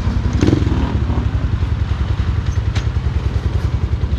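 A motorcycle named Osang, its fuel tank freshly repainted, runs close by on an afternoon ride in Tarlac, a steady low pulsing engine note with a few light clatters and faint crackles over it.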